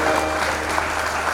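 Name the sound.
audience applause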